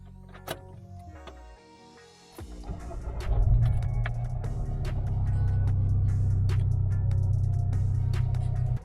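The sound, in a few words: car engine idling after cold start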